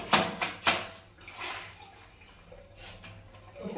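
Water splashing and running during household washing at home, with a few sharp splashes early on, then softer trickling and scattered sloshes, fairly close.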